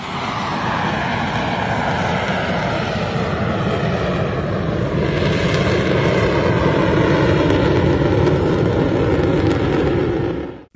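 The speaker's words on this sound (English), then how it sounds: "This Harrier performing a slow vertical takeoff." A Harrier jet makes a slow vertical takeoff, its engine a loud, continuous broadband roar that holds steady close by and cuts off abruptly at the end.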